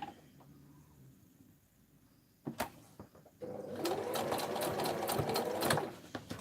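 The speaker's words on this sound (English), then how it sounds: "I'm just going to sew this last pocket on." A sewing machine stitches a pocket onto a fabric book made to hold crochet hooks or needles. After a quiet start with a few clicks, the motor runs steadily and loudly for the last few seconds.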